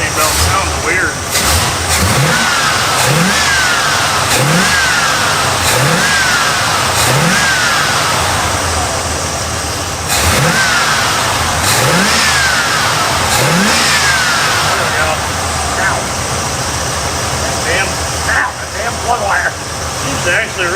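V8 boat motor swapped into a truck, running now on all eight cylinders, revved repeatedly in short regular blips over a rough idle, with a serpentine belt sounding off; loud and close throughout.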